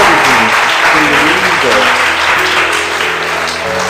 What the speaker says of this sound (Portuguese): Aplaudas essa palavra de Deus maravilhosa